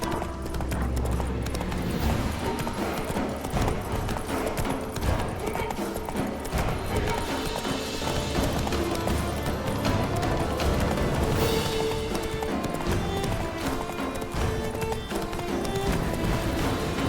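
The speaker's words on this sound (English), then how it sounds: "Run, Roach." Galloping horse Roach in The Witcher 3 video game, a steady drumming clip-clop of hooves that carries on for the whole stretch over dense game music and ambience, with a brief snort or whinny partway through.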